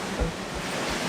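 Ocean waves wash around an Outremer 52 catamaran sailing fast with following seas, a steady rushing swell mixed with wind buffeting on the microphone, with a low thump near the start.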